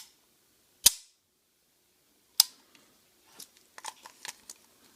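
A CZ 75 SP-01 Shadow Target pistol gives two sharp, isolated metallic snaps, then a quicker run of softer clicks from its short trigger reset, all crisp and close with no voices.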